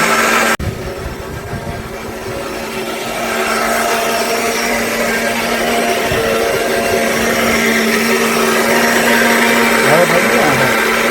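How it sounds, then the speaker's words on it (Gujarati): An electric mixer grinder whirs steadily while blending mango pulp for village-style aamras, a loud, continuous motor drone starting after a click and building slightly in intensity, with people talking over it. "મિક્સર ચાલુ કરીએ"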